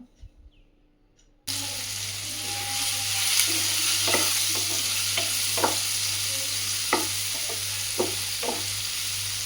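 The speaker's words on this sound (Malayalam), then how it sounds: "മാങ്ങ വെള്ളമില്ലാതെ തന്നെ നമ്മൾ ഇതിനകത്തേക്ക് ചേർത്ത് കൊടുത്ത് ഒന്ന് ഇളക്കി കൊടുക്കാം" After a quiet start, chopped raw mango hits hot oil in a Palakkad-style Kerala mango curry and sizzles loudly, with intermittent spoon clinks and scrapes as it is stirred.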